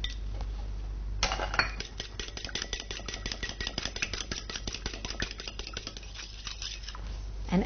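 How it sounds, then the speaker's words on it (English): An egg is beaten in a bowl for latke batter, producing a rapid, steady series of close clinking taps from a utensil against the bowl for several seconds. "I'm going to beat an egg."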